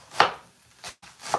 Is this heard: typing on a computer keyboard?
no